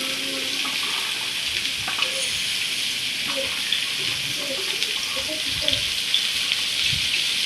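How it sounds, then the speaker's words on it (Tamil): Onions and vegetables fry in oil in a kadai for chicken fried rice. A steady, moderately loud sizzle hisses throughout, with occasional soft clinks and stirring knocks. "ஒரு கடாயில் எண்ணெய் அதில் வெங்காயம் அதெல்லாம் போட்டு நல்லா ஃப்ரை பண்ணிக்கணும்"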